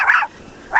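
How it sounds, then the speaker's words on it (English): A dog barks at trees tossing in the wind during an April snowstorm, giving two short, close yips separated by a brief pause, with no talking. "barking at the blowing trees"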